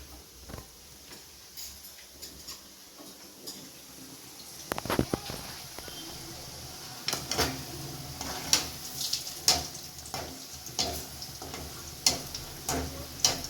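Cauliflower pakoda frying in hot oil after being turned over, a steady close sizzle with scattered sharp crackles and pops growing busier and louder partway through.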